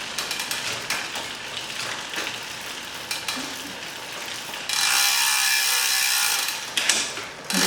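SRAM AXS electronic rear derailleur on a Giant Propel road bike shifting on its own, heard as close mechanical ratcheting and whirring clicks, then a steady hissy whir as the chain moves across the cogs.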